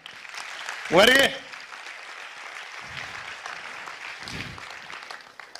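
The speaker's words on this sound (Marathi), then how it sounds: "याच्यासाठी टाळ्या वाजवा." An audience at a motivational lecture breaks into sustained applause after a brief loud call from a speaker. The steady clapping from the crowd continues evenly at moderate volume, with a few faint swells.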